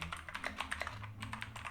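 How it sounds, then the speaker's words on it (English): Very clicky mechanical keyboard keys typed in a quick, uneven run of sharp, close clicks, each keystroke crisp and pen-click-like, heard alone with no talking. "why is it so clicky? It kind of sounds like a pen, like you're clicking a pen."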